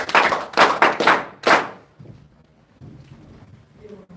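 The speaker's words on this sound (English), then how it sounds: "Give her a round of applause." Several loud hand claps ring out close by at a gospel class, a short burst of separate strikes that fades into quiet low murmuring.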